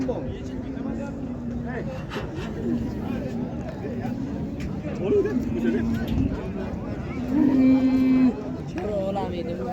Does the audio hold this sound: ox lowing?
yes